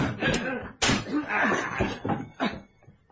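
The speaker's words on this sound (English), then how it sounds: "Another sort of hammering on a different door. All right, break it down." Heavy blows hammer on a door as it is broken down in an old-time radio drama, a series of loud slams and thuds with splintering crashes, mixed with muffled voices.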